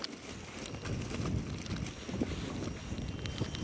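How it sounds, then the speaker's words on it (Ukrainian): Steady wind rumbles and buffets against the microphone on a cold day at a fishing spot, with low gusty noise swelling and easing throughout and no voices. "щось мені цей вітер не сильно подобається"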